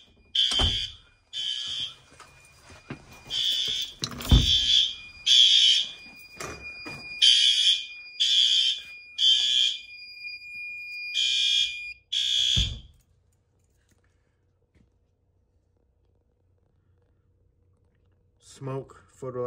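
A fire alarm in a generator building sounds during a photoelectric smoke detector test, blaring in repeated loud pulsed bursts with a steady tone, then cutting off into silence before a faint distant sound at the end.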